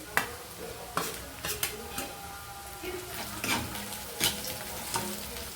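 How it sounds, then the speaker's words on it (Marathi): Coriander fries in hot oil with softened onion for a tempering, a steady crackling sizzle broken by regular sharp clicks and scrapes of stirring, close and fairly quiet, with no talk. "आता आपण कोथिंबीर टाकूयात तेलामध्ये फोडणीला।"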